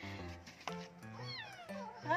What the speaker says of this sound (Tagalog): Sorry, naapakan yung buntot ni Kuting.